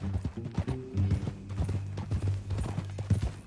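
Horse hooves clip-clop in a steady walking rhythm in Red Dead Redemption 2, close and clear, with a low hum underneath and faint voices in the background.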